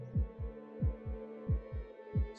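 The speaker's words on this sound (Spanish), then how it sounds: "Se escucha mi latido del corazón." A slow, deep heartbeat thumps in the horror video game Taken, a regular double-beat pulse repeating about six times over a low droning hum, close and prominent with no talk.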